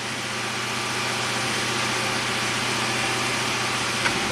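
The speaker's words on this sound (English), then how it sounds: "I'll let it idle." A 2006 Pontiac GTO V8 idles steadily with a deep, even rumble and constant vibration throughout, close and alone, with a small click near the end; the engine has had some cylinder misfires.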